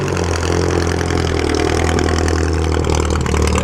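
A vintage Bentley engine idles with its hood raised, a loud, steady, throbbing mechanical rumble heard up close without a break.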